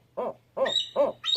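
A barred owl in West Virginia hoots four times in quick succession, the calls close and clear, rising into harsher, higher notes in the later ones.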